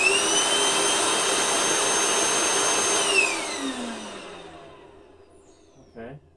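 A Sanitaire EXTEND floor cleaning machine whirs loudly on a basement floor, then spins down with a falling whine, leaving a brief clunk at the end.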